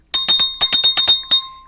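A small handheld bell kept in a paranormal investigation kit rings in a quick run of about nine bright, metallic dings, close and clear, the last ring left to fade.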